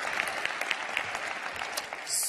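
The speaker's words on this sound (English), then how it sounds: "please, a round of applause for our minister from Chile, Erasuris Dominguez" Conference attendees applaud a Chilean minister in a session hall, with steady clapping from the audience and several crisp individual claps standing out, continuing for a couple of seconds before easing off.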